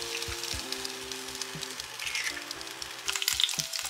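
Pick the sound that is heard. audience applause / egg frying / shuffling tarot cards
egg frying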